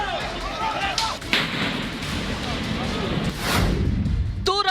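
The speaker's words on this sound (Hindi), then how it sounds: "मिजोरम की ओर से एलएमजी से फायरिंग हुई है" Light machine gun fire during a clash on the Assam–Mizoram border, coming from the Mizoram side: loud, dense bursts of gunfire over constant rough noise, with people talking underneath.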